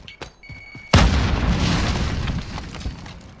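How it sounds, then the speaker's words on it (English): A frag grenade blows up in Call of Duty Warzone on Rebirth Island, one sudden loud boom that dies away over a few seconds of rumble, with a few small clicks before it and no talk. "Throwing frag."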